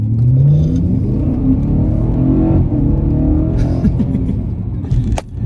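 A naturally aspirated 420 hp V8 in a BMW M3 E92 revs loudly and close, its deep engine drone climbing early on, then holding steady before a brief dip near the end.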